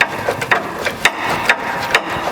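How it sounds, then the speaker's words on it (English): A hand ratchet with an 18mm socket backs out an outer frame bolt on a Jeep Wrangler JL 392 Hemi during a skid plate install, giving a steady series of close, crisp clicks about every half second with no one talking. "now we're going to use an 18mm socket. Remove this outer bolt here on the frame"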